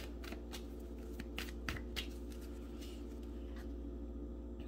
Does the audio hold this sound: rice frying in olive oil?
no